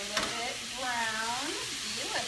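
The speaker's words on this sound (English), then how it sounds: "So, these are just sauteing up nicely" Vegetables sauté in a hot pan with a steady, close sizzle, while a voice talks softly over the frying throughout.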